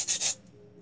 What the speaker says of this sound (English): This is a sander.